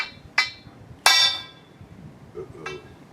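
Three sharp metal strikes of a hammer on a punch, denting metal to start a drill hole during a boat davit installation; two loud close blows with ringing tails and a lighter third, no talk.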